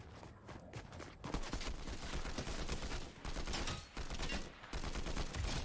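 Fortnite gunfire heard as rapid bursts of automatic rifle shots, dense and loud, with brief pauses between volleys and no talking over it.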